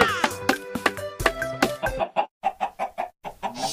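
Minecraft chickens cluck in a quick string of short, clipped calls, first over bright game music and then alone in the gaps.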